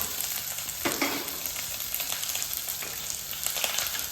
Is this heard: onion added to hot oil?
yes